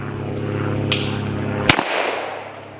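A single sharp, loud gunshot cracks at an outdoor shooting range, cutting through a steady low hum and followed by a brief echo and fading ambience.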